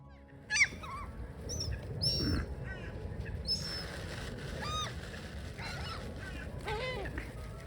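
Birds calling near the water, likely crows and seagulls: scattered squawks and honking cries spread across the stretch, a louder call near the start, over a constant low background rumble with no talking.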